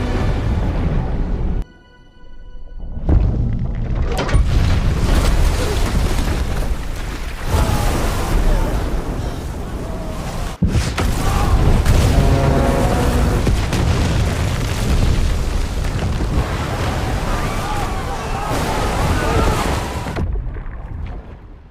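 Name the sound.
large explosion of underwater explosives in a film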